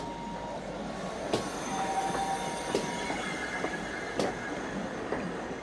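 A train rumbles steadily past, with metallic wheel squeals and occasional sharp clanks over a constant rolling noise.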